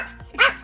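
A single short dog bark, close and clear, a quick yip-like bow-wow lasting only a moment against a quiet indoor background.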